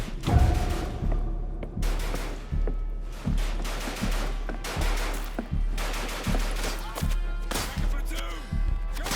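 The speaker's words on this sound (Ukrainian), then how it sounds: "я не звертаю увагу на кулі, які пролітають над головою, артилерійський обстріл, вибухи та мертві тіла" Gunfire and artillery in a military horror video game: repeated heavy booming shots and bursts land every second or so, each decaying into a rumbling tail, with a voice talking underneath.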